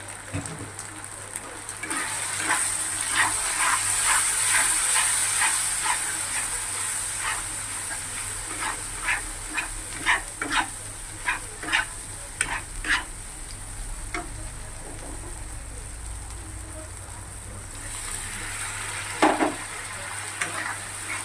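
Masala with turmeric and chili powder being sautéed in a pan for a Bengali recipe, a steady close sizzle with many short scraping stir strokes throughout, easing off toward the end.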